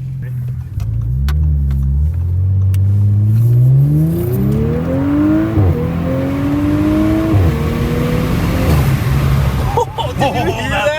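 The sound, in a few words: Audi S5 engine revving with Motorsport P34 cold air intake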